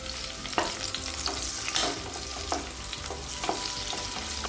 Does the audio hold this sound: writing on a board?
no